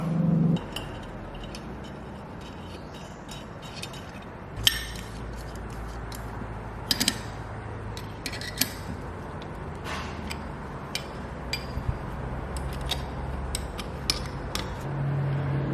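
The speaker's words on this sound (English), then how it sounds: "it's just a matter of getting your 10mm bolts with the washers and tightening them all back up" Quiet metallic clinks, ticks and creaks of a ratchet tightening 10mm bolts with washers on a Ford Ranger turbo, scattered short taps over a faint background, with no talk.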